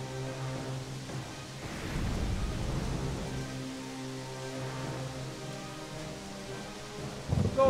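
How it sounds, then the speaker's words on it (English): Rain falls steadily in a storm in the video game Storm Boy, with low rumbling thunder swelling in the middle and a louder burst near the end. "This storm is very strong."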